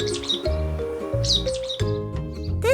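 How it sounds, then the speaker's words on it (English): A black bulbul calls from a tree with short, nasal, chirping notes in a few quick bursts, close and clear, with no speech over it. "you are under a tree and suddenly you hear ba, ba, ba, there's probably a black bulbul above you"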